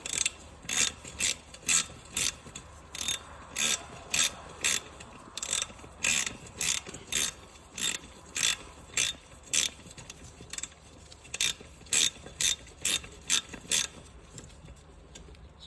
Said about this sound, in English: that's when you take your socket and finish it off